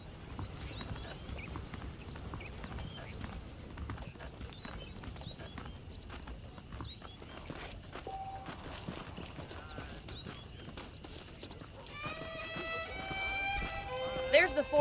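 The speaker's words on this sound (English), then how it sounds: "The horses are saddled up over here." Saddled horses in Red Dead Redemption make a soft, steady clip-clop of hooves under continuous talk, with the sound growing somewhat louder toward the end.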